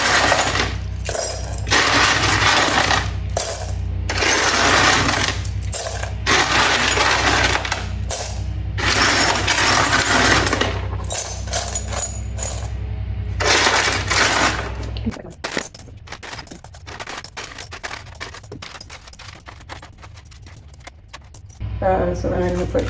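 Broken glass shards tipped and poured into a container to make faux sea glass, a dense continuous clatter and clinking of many pieces for several seconds, then quieter scattered rattles and chinks near the end.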